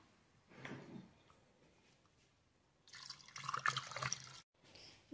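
Milk poured into a blender for an avocado and zucchini smoothie with condensed milk and liquid yogurt, a soft short trickle followed by a louder splashing pour near the end, close and alone without talk.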